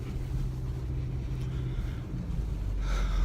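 A Subaru Outback with four-wheel drive and standard road tyres drives off road across a farm field, its engine a steady low rumble throughout, with road and wind noise swelling slightly near the end.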